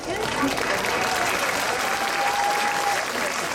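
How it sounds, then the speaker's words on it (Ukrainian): An outdoor crowd at a Taras Shevchenko monument unveiling applauds a singer with dense, steady clapping, a voice faintly audible beneath it. "Аплодуємо!"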